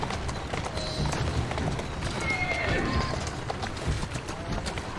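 Horse hooves in Assassin's Creed Syndicate clatter in a busy, continuous rhythm amid street bustle and other game noise, with a brief tonal sweep midway through.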